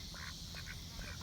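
Several short, nasal duck quacks on a homestead, soft and slightly distant over a steady background hum, with no talking.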